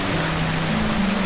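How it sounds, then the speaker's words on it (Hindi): Light rain starts falling in an animated scene, a steady even hiss of drops spread across the whole clip with a low hum beneath, no voices. "तभी थोड़ी थोड़ी बारिश आनी शुरू हो गई।"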